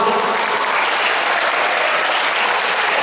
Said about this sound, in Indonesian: Tepuk tangan Bapak Ibu yang satu persatu